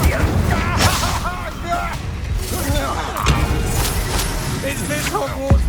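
Spell blasts from Confringo and Expulso curses burst repeatedly in Hogwarts Legacy combat, a dense series of booming impacts and crackling explosions layered under constant game music and shouted dialogue.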